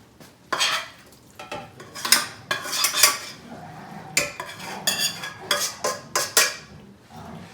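Tomatoes and okra tumbling into a turkey gumbo pot, heard as a run of clattering utensil-and-pot knocks and scrapes in irregular bursts, close and fairly loud, with no talk.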